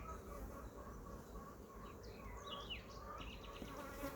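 Steady insect buzzing from many honey bees at a hive, a continuous droning hum with a few higher whines passing close, no talking.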